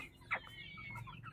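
Local chickens on a small farm give a short, close cluck early on, followed by softer scattered clucking over a steady low background.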